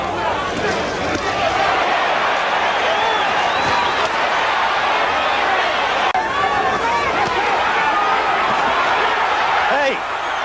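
A boxing arena crowd at the Larry Holmes versus Gerry Cooney fight roars in a dense, continuous hubbub of cheering and shouting, with voices talking over the noise.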